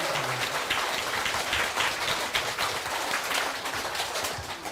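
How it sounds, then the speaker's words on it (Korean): A seated crowd at a lecture-style gathering applauds on cue, steady dense clapping that fills the room evenly from start to finish without talk over it. "박수!"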